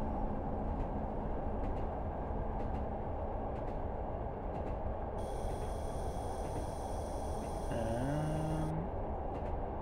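A Class 105 diesel multiple unit runs along the line between Barnard Castle and Bishop Auckland, a continuous deep engine rumble and wheel roar, with a faint whine and a brief tonal shift near the end.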